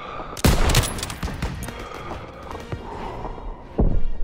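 Suppressive gunfire during a Call of Duty WWII campaign battle: a burst of close, loud rifle and machine-gun shots, then scattered rounds over a noisy backdrop, and another heavy burst near the end.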